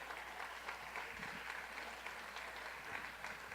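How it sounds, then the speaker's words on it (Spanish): A church congregation applauds after a sermon line, a soft, distant patter of many hands clapping steadily for a few seconds with a low hum underneath. "Aplaude a Jesús."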